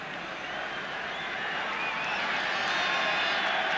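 A large football crowd roars steadily at a 1988 Ireland versus Bulgaria qualifying match, the broad cheering swelling slightly louder as it continues.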